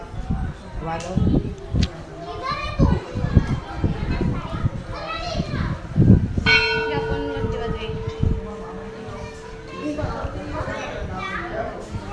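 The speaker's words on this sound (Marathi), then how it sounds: "घंटा वाजवायला उड्या मारते." A temple bell at the Gavdevi temple on Gilbert Hill is struck once and rings on with a sustained, slowly fading tone while children chatter and play close by.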